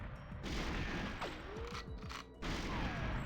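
Gunshots in GoldenEye on the Water Caverns level, a dense continuous wash of shots and impacts layered with game music and mechanical effects, faint and steady throughout.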